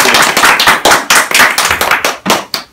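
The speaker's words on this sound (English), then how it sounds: "can you please give Steve a round of applause?" An audience applauds an author at a book talk on the burning of Washington, steady dense clapping that fills the room, loud and close, fading slightly at the end, with no talk.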